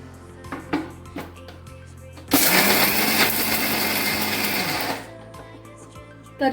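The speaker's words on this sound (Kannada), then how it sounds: "ಎಲ್ಲ ಮಿಕ್ಸಿ ಮಾಡ್ಕೋಬೇಕು." A mixer grinder whirs loudly for about three seconds, grinding salt, tamarind, jaggery and turmeric, amid quieter kitchen clatter, then winds down abruptly.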